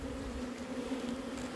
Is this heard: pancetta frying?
no